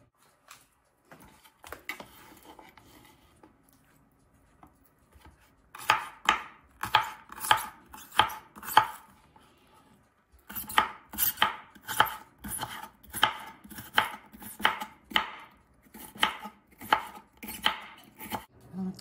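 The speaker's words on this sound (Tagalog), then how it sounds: "I will just prepare all these ingredients, clean it, and slice it" A knife slices bitter melon on a cutting board in a brisk series of sharp, evenly spaced chops, close and distinct, after a quiet start with a few scattered taps.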